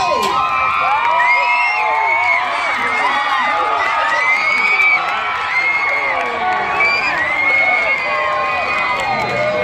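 Lively fair crowd at a pig race cheering, whooping and shouting continuously, with children's voices prominent throughout.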